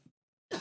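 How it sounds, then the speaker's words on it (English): A single short cough, near and fairly loud, bursts out after a brief stretch of silence, with a faint earlier throat sound at the start. "I'll just get that cough out of the way."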